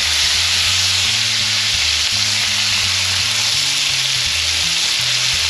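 Pork loin frying in a pan ahead of a spaghetti sauce, giving a loud, constant close-up sizzle with a low background hum and no voices.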